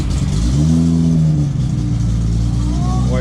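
A Toyota Supra's engine revs up nearby as the car is moved, a loud throaty rise that settles back into a steady idle rumble.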